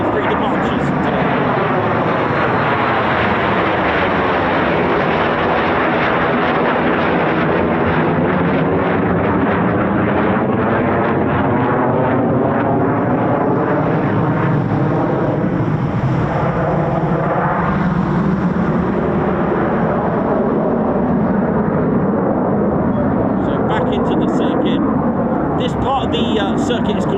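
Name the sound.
Eurofighter Typhoon FGR4 jet flying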